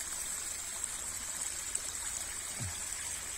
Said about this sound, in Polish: Przez takie potoki trzeba przyjść.